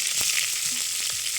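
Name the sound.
onions frying in cooking oil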